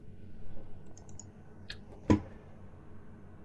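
A computer mouse clicks faintly during Minecraft setup, giving a few sparse light clicks and one sharper louder click near the middle over a quiet room hum.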